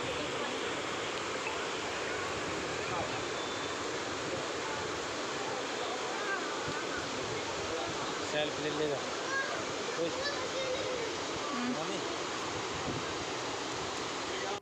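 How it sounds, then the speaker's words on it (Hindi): Steady rushing roar of a waterfall heard from high above, broadband and continuous throughout, with people talking briefly over the water noise. "वहीं पर भी इतनी तेज़ आवाज़ आ रही थी पानी की"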